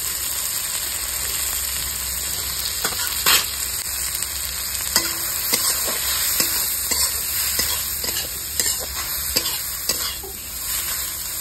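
Potato, taro and green banana pieces frying in hot oil for a rohu fish curry, a steady close sizzle broken by repeated sharp stirring scrapes and clatters.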